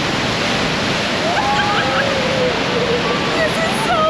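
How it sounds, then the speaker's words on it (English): Niagara Falls water rushes in a dense, continuous roar close by, with wind buffeting the microphone and faint whistle-like tones on top. "Wow, look at the water rushing."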